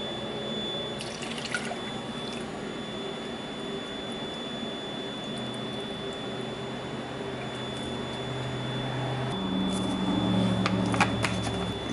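Paint pours steadily into a paint gun cup, trickling continuously under a constant electrical hum, growing slightly fuller toward the end.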